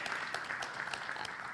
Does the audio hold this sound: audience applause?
yes